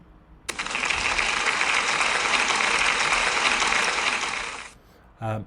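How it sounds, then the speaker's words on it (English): A school assembly breaks into a big round of applause, a thick wash of many hands clapping that starts abruptly, holds steady for about four seconds, then cuts off before a brief voice. "So can we give them a big round of applause, please?"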